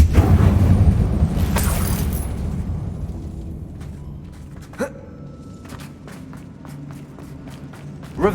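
A Confringo fire spell in Hogwarts Legacy bursts with a loud, rumbling blast that fades into a crackling tail, followed by scattered faint clicks and a small thud.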